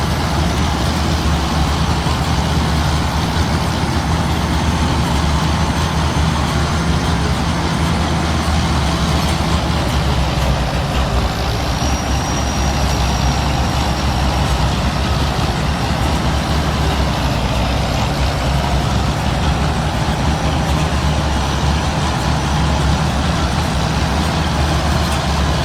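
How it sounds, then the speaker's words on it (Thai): A rice combine harvester engine from a Farming Simulator 2019 mod drones continuously, a dense, steady low rumble with a whining upper layer that stays loud and unchanged throughout, with no talking. "เสียงรถนี่ ใกล้เคียงนะเคียงรถจริง"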